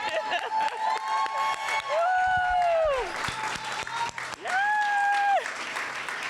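A standing audience at a Wear Red Day event cheers and applauds loudly and continuously, with whoops and shouting voices rising over the clapping.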